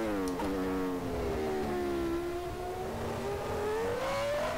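A Ferrari Formula 1 car engine in the rFactor racing game, 1999 San Marino Grand Prix, holds a steady high whine that dips and then climbs in pitch as it revs, close and continuous.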